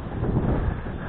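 Steady wind buffeting the microphone outdoors on a perch fishing trip, a loud continuous low rumble with no speech.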